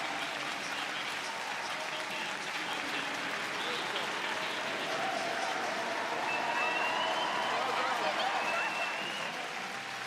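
A London crowd applauds steadily at a track cycling World Cup race, a dense, continuous wash of clapping and cheering that swells slightly near the end, with commentary voices faintly mixed in.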